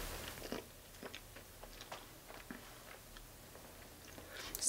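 Someone chewing a crunchy homemade burrito: faint, close bites and crunches in an irregular rhythm of short bursts over a quiet background.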